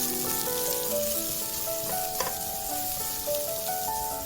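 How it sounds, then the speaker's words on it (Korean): Minced garlic and onion stir-frying in cooking oil for a Korean side dish, a bright, even sizzle throughout with a faint stirring clack, over soft background music and no speech. "식용유를 넣고 다진 마늘을 넣고 볶고 양파를 넣고 볶아줍니다."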